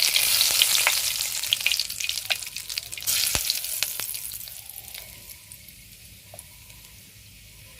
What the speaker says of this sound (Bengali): আর তেলের মধ্যে দিয়ে দেবো দেখো গোটা গরম মশলা